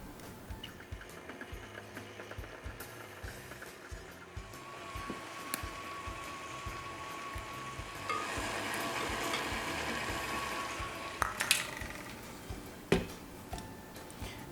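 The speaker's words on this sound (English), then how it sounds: "Now we're going to go ahead and cream our butter and sugar together" Butter and sugar are creamed together and eggs are added, with a steady mechanical whir of mixing and intermittent ticking and clattering against the bowl, swelling midway, close and moderately loud.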